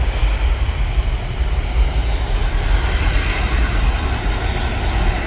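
An EasyJet jet airliner is on its takeoff roll at Manchester Airport, heard from a viewing park as a steady, loud, broadband engine roar that holds for several seconds without a break, with no talking.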